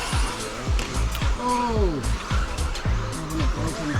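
An Associated RC10B74.2 4WD electric RC buggy races around a track, its motor whining and rising and falling through the turns under continuous spoken commentary.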